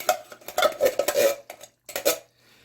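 Pork ribs and red beans being stirred and scooped up from the bottom of a pot for Trinidadian stew, with repeated scraping and clattering of a spoon against the pot in bursts, then a brief pause and one more scrape.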